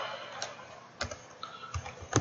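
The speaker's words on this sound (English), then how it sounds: "We type in" Keys on a computer keyboard are tapped in a short, irregular burst of light clicks, close and fairly quiet, with no voices.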